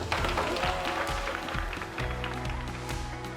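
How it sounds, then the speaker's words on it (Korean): Primary school students and guests clapping in a school hall, steady scattered hand claps across the whole stretch beneath a low background hum, no clear talking. "다시 한번 박수 쳐드리고 싶습니다"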